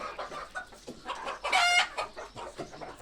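Hens clucking inside a farm coop where eggs are laid, a steady busy chorus of close clucks with one louder squawk in the middle, no talking.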